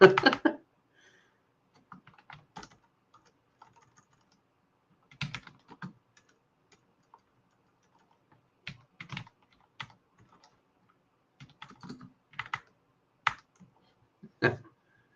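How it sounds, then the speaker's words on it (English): Someone types on a computer keyboard in short scattered bursts of soft, close key clicks separated by quiet pauses, with no talk over them. "I'll type that in the chat though."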